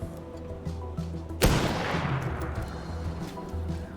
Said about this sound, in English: And then we just... sniper rifle.